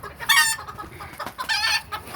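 Chickens cluck in two loud bursts a moment apart, close by and clear, with short quieter gaps of farmyard noise between them.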